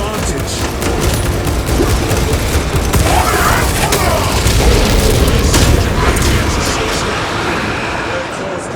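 Heavy gunfire in Warhammer 40K Space Marine 2: dense, continuous bursts and booming impacts roll on through the whole stretch, loud and close, with voices talking over the fighting.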